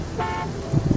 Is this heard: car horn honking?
yes